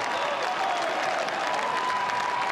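Rugby home crowd at a Connacht versus Zebre match applauding and cheering a try, a dense continuous wash of clapping and distant cheers with a faint commentator voice underneath.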